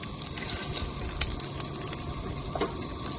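Small, thin fresh fish fry in a pan, giving a steady, close crackling sizzle with scattered pops throughout and no talking.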